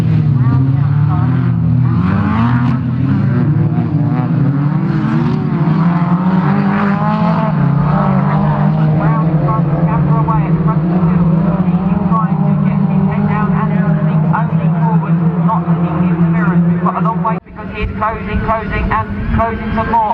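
Rallycross race cars battle door to door at Croft Circuit, turbocharged engines roaring loudly and continuously with rising and falling revs, a commentator talking over the racket throughout.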